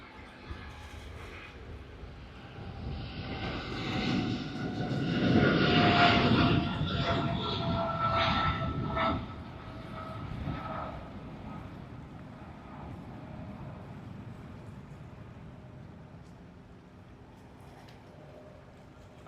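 An Air New Zealand Boeing 777-300ER in black livery roars through its takeoff roll at Sydney Airport, jet engine noise swelling to a peak midway, then slowly fading into a distant rumble with light wind noise.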